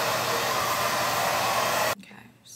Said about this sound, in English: I gotta take this down with a blow dryer